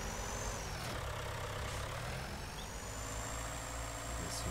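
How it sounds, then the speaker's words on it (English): Tractor engine in the video game Farming Simulator 19, a steady low mechanical drone running continuously and evenly, close and moderately loud with no voices over it. "So at least we have a tractor."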